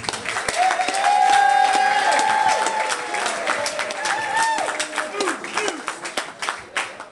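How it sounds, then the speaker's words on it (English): Wedding guests applaud and cheer the groom at a New Year's Eve reception in Ballinacurra, with a steady crowd clapping that holds for several seconds, voices calling out over it, and a whistle or shout rising near the start before the clapping thins toward the end. "can we give a warm applause for Barry Walsh"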